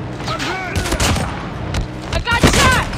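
Rapid video game gunfire bursts dense and loud in the foreground, with a player's voice briefly heard over the shooting.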